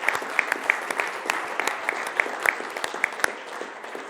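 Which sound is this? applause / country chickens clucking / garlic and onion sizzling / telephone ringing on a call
applause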